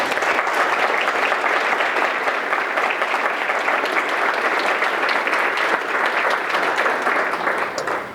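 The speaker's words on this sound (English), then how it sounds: "I would like the folks with Parkinson's to give them some applause right now." Audience at a Parkinson's community gathering applauding care partners, loud sustained clapping from many people filling the room, steady and unbroken throughout.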